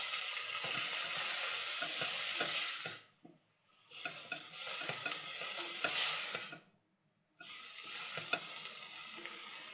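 Nettle soup stirred in a pot, bursts of bubbling, sizzling hiss broken by two short silences, close and fairly loud.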